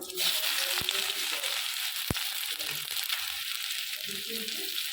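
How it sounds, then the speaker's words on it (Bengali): Chopped onions frying in a pan after whole cumin seeds, a quiet crackling sizzle with scattered pops and two sharp utensil clicks, close but low in level. "পেঁয়াজগুলো আমি ভালো করে ভেজে নেব"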